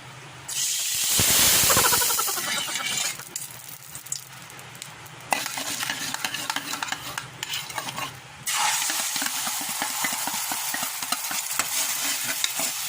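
Hot oil sizzles loudly in a pan while egg fried rice is being made, a steady frying hiss with stirring scrapes that swells and drops in bursts, no voices.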